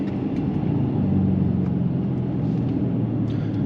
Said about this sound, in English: a V8 sounds always good